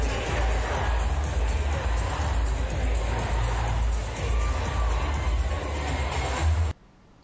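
A concert crowd inside the O2 Brixton during a show, recorded on a phone: a dense, loud roar of cheering and amplified sound that runs steadily and cuts off abruptly near the end.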